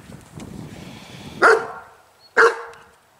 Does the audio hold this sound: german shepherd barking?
yes